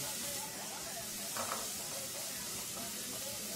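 Onion and garlic sautéing in olive oil in a pan while beans are being cooked give off a steady, close sizzle and hiss that runs through the whole stretch, with faint stirring and no talk.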